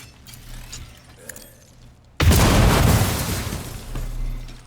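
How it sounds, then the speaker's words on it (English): In the video game Warhammer 40K Rogue Trader, an explosion bursts suddenly after quiet game ambience, a loud, deep, crackling blast that slowly rumbles away. "It's an explosion."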